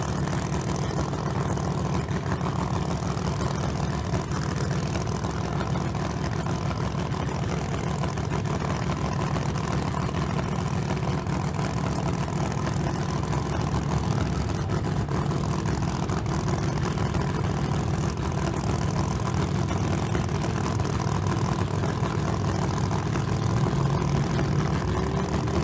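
A 1963 Corvette Stingray drag car idles in the left lane at a Las Vegas street car drag race, giving a steady, loud, low engine rumble that holds evenly throughout with no talk over it.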